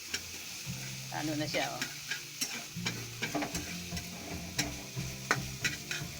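Sautéed corned beef sizzles in a frying pan while a utensil scrapes and stirs it in an irregular rhythm, steady frying hiss underneath, close by, with a brief spoken remark over it.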